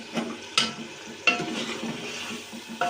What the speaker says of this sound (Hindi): अब हम इसमें टमाटर और सब्ज़ मिर्चें डालेंगे।